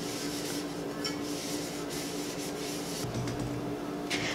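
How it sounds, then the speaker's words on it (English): Soft continuous rubbing of a cloth wiping alcohol over a sanded tumbler cup, close and quiet with a steady low hiss throughout. "we are just going to wipe it down. And this is just some alcohol to get all of the dust off"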